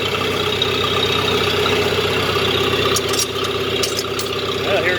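A 3020 gas tractor engine runs at a steady idle, loud and close, with an even mechanical drone and a few faint higher rattles and squeaks over it.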